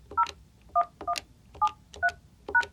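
Keypad tones from a Yealink T48-series VoIP desk phone as a PIN is entered: six short, evenly spaced dual-tone beeps over a quiet background, with no talking.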